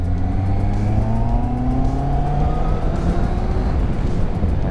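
A QJMotor SRK 800 RR four-cylinder motorcycle engine drones steadily at speed, its pitch rising in a smooth sweep as it pulls through the revs, loud and continuous with wind roar and no talk.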